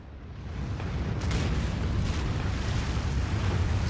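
Ship cannon fire in Anno 2205 gives a loud, sustained low rumbling boom that swells after the first half second and rolls on steadily, with a brief burst near the start and no talk.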